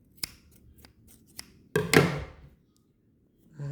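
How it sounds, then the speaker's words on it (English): Scissors cutting crochet yarn give one close, crisp snip-and-rustle burst. A few soft taps come before it and a low rumble follows at the end. "cut your yarn,"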